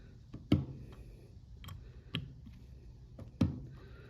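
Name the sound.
torque wrench clicking while tightening outboard reed bolts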